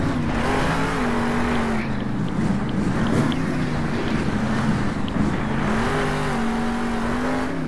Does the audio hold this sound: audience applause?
no